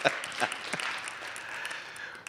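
Church congregation applauding the Lord during a Sunday service, a faint, somewhat distant patter of clapping that fades after a few louder claps near the start.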